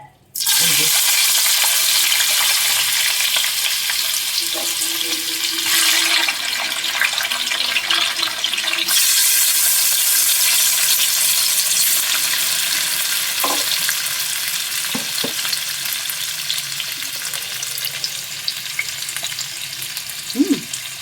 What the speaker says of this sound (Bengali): আর এটা এগুলো ফ্রাই হতে হতে আমি এর মধ্যে দিয়ে দেব